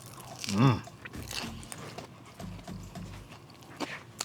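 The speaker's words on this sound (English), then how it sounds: "I love that crunch from this crackling steak" A close, brief crunchy bite into a street taco filled with crackling steak comes early, then softer chewing noises follow over quiet background.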